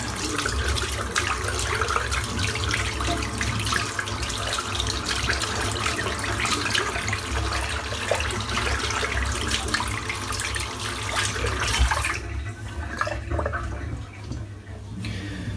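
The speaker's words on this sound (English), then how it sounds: "rinse the soap out." A shaving brush is rinsed of soap under a running bathroom tap: a steady, close rush of water pours for about twelve seconds, then cuts off, leaving only faint drips and room noise.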